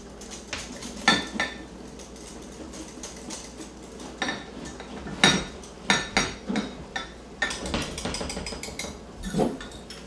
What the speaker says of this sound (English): And back to the old trusty whisk. It's the best way to blend everything together.